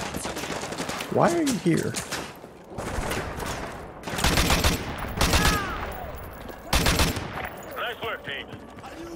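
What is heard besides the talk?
gunfire in video game Call of Duty: Modern Warfare 2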